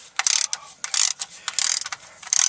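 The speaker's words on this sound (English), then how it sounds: "you want to loosen up your fill plug first" A hand ratchet clicks in quick, uneven bursts, loosening the transfer case fill plug on a 2000 Ford F-350, close up with no talking.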